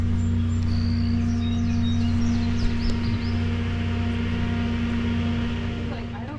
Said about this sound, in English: They have generators going, which is what that noise is.